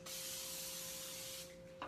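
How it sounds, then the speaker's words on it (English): A long, continuous hiss from a spray bottle misting cookie dough ends after about a second and a half, followed by a short second burst, close and loud in a kitchen. "Let me spray this."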